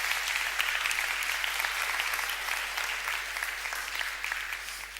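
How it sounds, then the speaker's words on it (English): Sustained clapping from a TEDx audience, a full room of hands applauding in a thick, continuous roar that slowly eases toward the end. "Give another round of applause."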